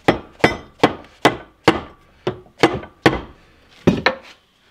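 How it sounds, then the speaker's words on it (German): About ten sharp hammer blows on a part of a TORO eFLEX reel mower during disassembly, at an uneven pace, each a bright metallic knock with a short ring, close by and loud, then quiet. "Jetzt vorsichtig mit dem Hammer."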